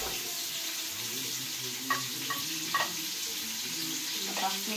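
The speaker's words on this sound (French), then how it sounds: "Je fais frire. Je vais faire revenir les oignons." Onions frying in oil in a pan while a pork crépinette is cooked: a soft, steady hiss of sizzling with a few faint clinks and taps from stirring, quiet and close, with no talk.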